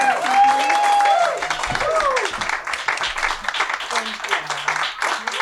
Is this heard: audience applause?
yes